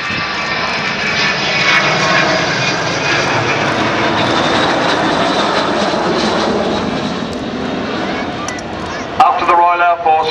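The engines of the Avro Vulcan XH558 jet bomber roar continuously during an air display at RAF Waddington in 2011, loud and sustained, with the howl swelling as it passes.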